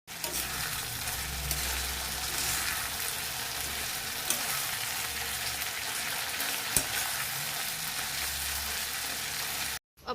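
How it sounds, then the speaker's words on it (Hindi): Chicken frying in a home kitchen pan gives off a steady, dense sizzle that holds throughout, with a few brief clinks along the way and no talk. "मैंने अभी चिकन फ्राई होने के लिए रख दिया है"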